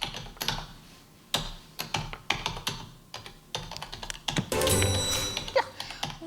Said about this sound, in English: I'm going to play the sound of someone typing.